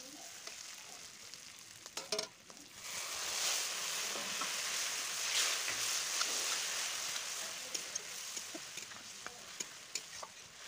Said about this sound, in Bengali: মশলাটাকে আরেকটু ভালো করে কষিয়ে নিয়েছি দেখুন।